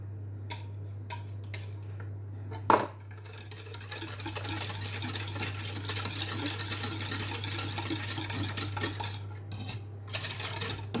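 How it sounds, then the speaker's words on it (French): Cake batter being mixed in a Tupperware Speedy Chef hand-crank mixer for a quick marbled cake: a steady whirring, ticking churn runs continuously at close range, with a sharp clatter near the start. "Là, je continue à mélanger."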